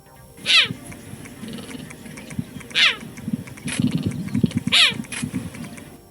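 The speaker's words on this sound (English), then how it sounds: "Have you heard a cheetah roar? It's kind of cute." Three high, chirpy meow-like calls from a cheetah, evenly spaced, with soft rustling and low background noise between them.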